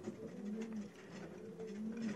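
Racing pigeons coo softly in repeated low, rolling calls, a few birds close by in a quiet enclosed loft.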